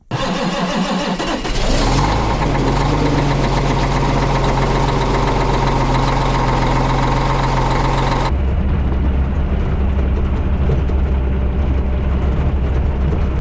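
John Deere 535 tractor hitched to a Soil Max Gold Digger ZD scraper making a cold start: a brief cranking leads into a loud, steady, close diesel idle that continues to the end, with a shift in tone partway through.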